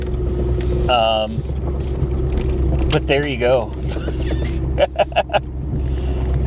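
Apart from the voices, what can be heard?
1983 Mercury Cougar engine idling too high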